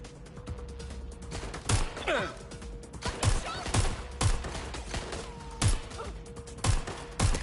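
Gunfire in the video game Watch Dogs: Legion, with repeated sharp shots and bursts landing every second or so over a low background hum and faint clatter.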